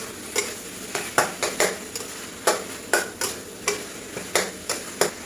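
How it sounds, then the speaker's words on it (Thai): Minced pork stir-fried with sliced chili in a pan for a pork and long eggplant basil dish: regular spatula scrapes and clacks over a soft, constant sizzle, close up with no voices. "ผัดไปเรื่อยๆค่ะจนหมูสุก"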